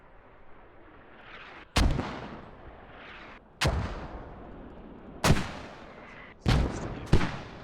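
Mortar rounds in a military video game land in five heavy booms, each a sharp crack followed by a rumbling decay, spaced a second or two apart with the last two close together, and no talk.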